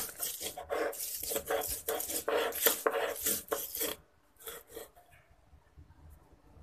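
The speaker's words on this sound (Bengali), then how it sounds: "এখন হালকা করে বেটে নেব।" Dried fish (shutki) being ground into a coarse paste for vorta: close, rhythmic rasping and scraping strokes for about four seconds, then near quiet.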